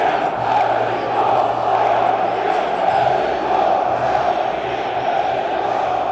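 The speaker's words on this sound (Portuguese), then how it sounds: "Não começou o jogo, é só o aquecimento dos goleiros. E eles já estão gritando, empolgando todo mundo." Organized football supporters in a Danish stadium shout and cheer during the goalkeepers' warm-up, a steady, dense crowd roar with chant-like swells that carries on without a break.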